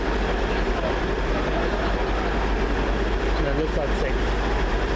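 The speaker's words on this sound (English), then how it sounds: "We now welcome the train which is going to be the 2030 service to Glasgow Queen Street." A train arriving at Edinburgh Waverley station, a continuous loud rumble of rolling stock with rail noise and station ambience, while people talk over it.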